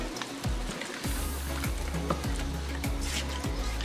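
Chicken, shrimp and canned mushrooms stirred around in a hot pan, a steady close sizzle broken by regular scraping strokes of the utensil, with no voices.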